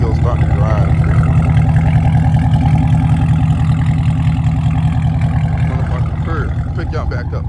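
A catless Chevrolet Camaro SS idles with a deep, steady, rumbling burble that is loud and close, and a voice talks over parts of it.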